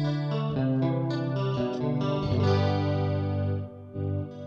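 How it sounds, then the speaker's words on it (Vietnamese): Clean electric guitar with a shimmering chorus effect played through a VOX StompLab IIG multi-effects pedal, sustained chords and notes ringing close and full for several seconds with no one talking. "Đây là tiếng chorus nè, tiếng clean đó."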